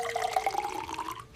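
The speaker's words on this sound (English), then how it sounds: "Let's fill every other glass with water." Water pours into a glass for a walking rainbow science experiment, a brief close gurgling stream with a pitch that rises as the glass fills.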